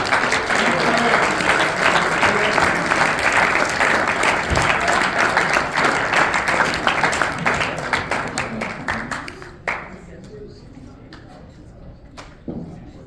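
Audience at a high school boys bowling awards banquet applauding a bowler, a dense burst of clapping that thins and fades out near the end, with a few voices underneath.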